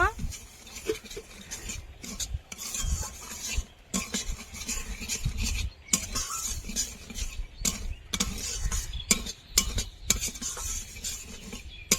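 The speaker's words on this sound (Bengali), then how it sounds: "কড়াইতে এক চামচ ঘি দিয়ে দেবো এবার সুজিটা দিয়ে দেবো হালকা করে একটু ভেজে নেব" Semolina being stirred in ghee in a kadai, with steady scraping and clinking of a spoon against the pan and a soft sizzle underneath, close and continuous.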